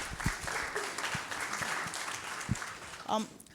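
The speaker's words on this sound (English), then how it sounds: "So everyone, give yourselves a round of applause, please." A university town hall audience gives a brief round of applause, a steady wash of clapping for a few seconds with voices mixed in near the end.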